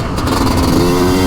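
A motocross motorcycle engine roars loud and close on an Italian track, revving steadily at high pitch with no talk over it.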